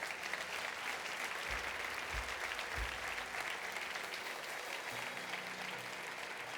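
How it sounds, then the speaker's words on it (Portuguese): A congregation applauds in a church service, with sustained, even clapping from many hands that sounds fairly soft and distant, while some low thumps sit underneath. "Você pode dar ao Senhor mais um forte aplauso por cada um deles."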